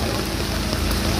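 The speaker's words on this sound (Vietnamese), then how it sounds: "30 phút mưa mau, mưa to ghê." Heavy rain pours down steadily during a flood, a dense continuous roar that fills the whole clip, loud and close with no voices.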